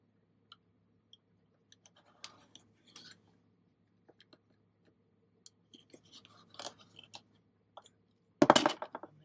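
Scissor blades make sparse, dry snips and clicks through paper for an altered book, quiet and close. The snips grow busier toward the end, then a loud rustling handling burst, with no talking.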